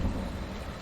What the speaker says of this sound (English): Oh, lovely bit of thunder.